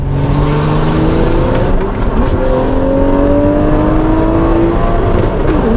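A stage 2 tuned BMW 135i with a manual gearbox accelerates hard, its engine note climbing loud and close through rising revs, with a brief dip before pulling again.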